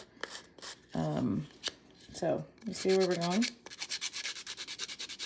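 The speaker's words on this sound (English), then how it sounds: "I'm just gonna just do some sanding on it, ruin my nail file" Rapid, rhythmic scraping of a nail file sanding a surface, close and crisp, following a few brief spoken words.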